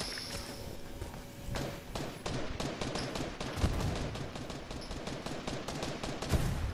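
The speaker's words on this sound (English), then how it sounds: "Who the fuck is that shooting?" Fortnite gunfire crackles in rapid, closely spaced bursts that grow denser and louder midway. The shots land as sharp, regular cracks with no speech over them.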